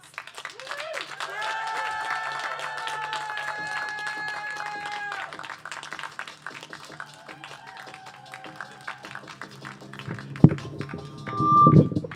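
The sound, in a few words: audience applause at a poetry event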